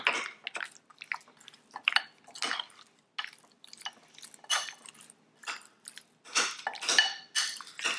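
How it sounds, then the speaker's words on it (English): Pork ribs being tossed with cornstarch in a bowl give close, sticky squishing and clicking sounds in irregular bursts, with no talking. "Now we're going to add in the cornstarch, which is going to coat each and every single pork rib"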